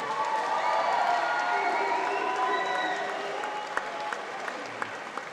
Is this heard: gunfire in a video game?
no